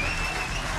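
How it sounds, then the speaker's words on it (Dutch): A studio audience at a talent show final claps loudly and steadily in a short, dense burst of applause. "Geef hem een daverend applaus nog,"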